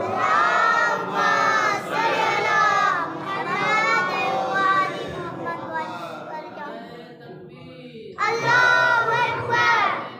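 A congregation at a majlis gathering loudly recites salawat in unison, a dense crowd of voices chanting close and strong, with a brief dip before a renewed surge near the end.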